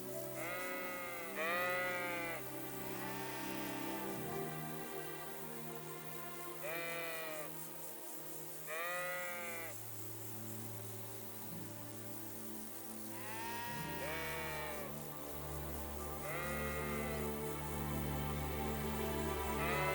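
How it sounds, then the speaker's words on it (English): Sheep bleating in the medieval role-playing game Kingdom Come: Deliverance II, several wavering bleats repeating every couple of seconds over a low, steady background of ambient game sound. "Henry, some wolves are killing my sheep again"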